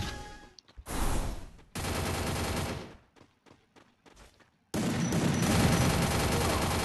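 A shotgun in the Free Fire game fires rapidly in loud bursts, with a first sustained volley, scattered softer shots in the middle and a heavy continuous barrage at the end.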